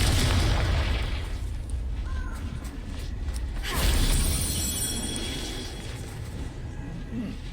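A Confringo fire spell bursts in Hogwarts Legacy with a loud, dense explosive roar and crackle, swelling near the middle and then sustaining under a steady mechanical rumble.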